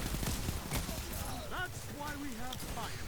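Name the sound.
SMG gunfire in the video game Destiny 2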